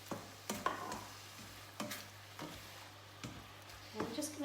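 Ketchup-based sauce added to a stir fry in a hot pan: a quiet, soft sizzle broken by several short stirring scrapes and clatters, with no talking.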